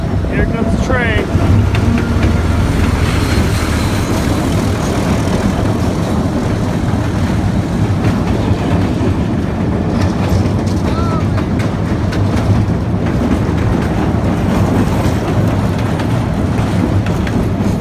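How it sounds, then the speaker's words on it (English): A train rumbles past close by near a bridge over water at Machu Picchu, a dense, steady roar holding for well over fifteen seconds with faint voices underneath. "Here comes the train."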